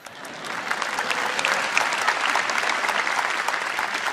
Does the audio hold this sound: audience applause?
yes